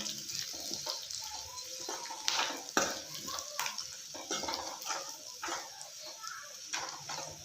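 Onion palya stirred and fried in a pan with chili or masala powder: repeated scraping spoon strokes with sharp clinks against the pan over a soft, steady sizzle, close up, with no one speaking.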